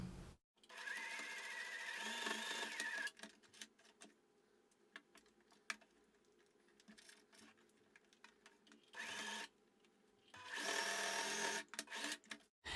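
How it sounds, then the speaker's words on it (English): A domestic sewing machine stitches seams along the folded sides of a homemade washable fabric face mask, running in several close bursts of steady whirring separated by quiet pauses, fairly faint and with no talking. "we need to go to the sewing machine now and do a little seam across these sides here"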